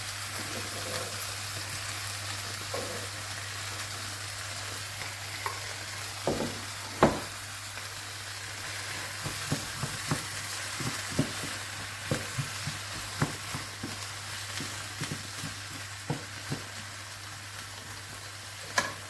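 Red capsicum frying in a pan for chutney, with a steady soft sizzle and scattered sharp clicks and scrapes of a spoon against the pan, alongside a low constant hum.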